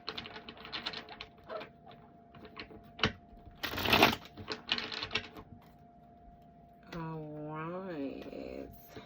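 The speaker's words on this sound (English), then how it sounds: "Shuffle this deck." Rapid riffling patter of a tarot deck being shuffled, with a louder burst in the middle, then a voice speaks over faint background music.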